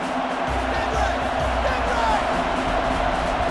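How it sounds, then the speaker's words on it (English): A stadium crowd in the NCAA Football 09 video game keeps up a steady, dense roar with faint cheering. It runs throughout at an even, fairly loud level. "So this crowd is making their presence felt."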